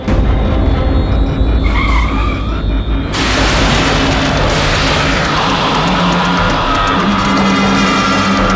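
A car on a night road brakes hard and skids, a loud, sustained tire scrape and rumble that swells abruptly and continues as the vehicle grinds to a stop.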